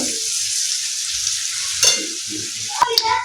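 Chow mein noodles being stirred and tossed in a hot pan, a steady sizzle of frying underneath with soft scraping stirs and a couple of sharper clanks of the utensil near the end, close and alone without talk.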